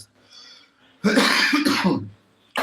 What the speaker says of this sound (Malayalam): സോറി കേട്ടോ എനിക്ക് ചുമ പിടിച്ചു